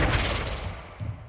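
A Flipendo spell is cast in Hogwarts Legacy: a loud, full burst hits at once and fades, and a smaller thump follows about a second later.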